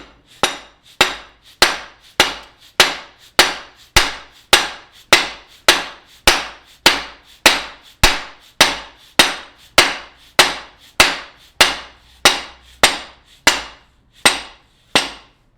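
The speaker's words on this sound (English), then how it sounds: "when we grab our hammer" A hammer strikes a plate to drive a cam bearing onto a V8 camshaft, about twenty sharp metallic taps at a steady, even rhythm, close and loud, each ringing briefly before the next.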